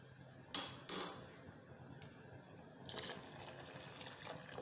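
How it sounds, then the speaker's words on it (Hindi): A spoon clinks and scrapes in a pan of custard being stirred for a fruit trifle dessert, with two sharp knocks near the start, then soft sloshing and scraping that stays fairly faint. "और साथ साथ इसमें हम चम्मच चला लेंगे।"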